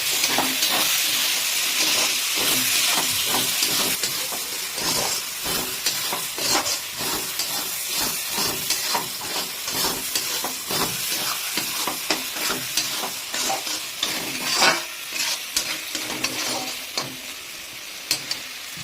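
Chicken kasa with tomato being stirred and fried over a high gas flame, a steady loud sizzle broken by frequent scraping stirs and clinks of the spoon against the pan, with no talking throughout.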